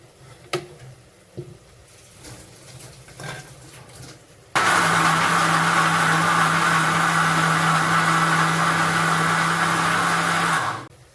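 A kitchen mixer grinder whirs loudly and steadily for about six seconds, blending masala for chicken sambar, starting abruptly and cutting off cleanly, after quieter clinks and handling sounds.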